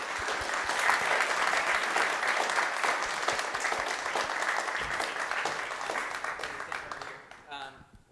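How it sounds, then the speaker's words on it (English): Audience applause after a WebAssembly panel discussion in San Francisco, thanking the speakers: dense, sustained clapping from a room of listeners that holds steady for several seconds, then thins and fades out at the end. "So a round of applause for everyone who spoke."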